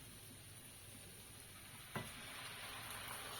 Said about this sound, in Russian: Ну что, берем, заливаем вино. Красное сухое вино.